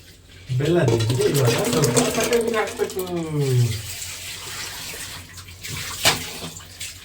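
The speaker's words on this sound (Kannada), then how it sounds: "ಇವಾಗ ಈ ಬೆಲ್ಲದ ನೀರಿಗೆ ನಾನು ಜ್ಯೂಸ್ ಹಾಕ್ತೀನಿ" Fruit juice is poured into a bowl of jaggery water for a homemade Ugadi festival bevu drink, a steady splashing stream that runs for several seconds under a voice and then trails off into lighter drips.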